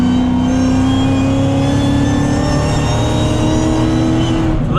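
A car's supercharger screams at full throttle, a loud sustained high-pitched whine riding over the roaring engine, steady and close throughout with a slight rise in pitch.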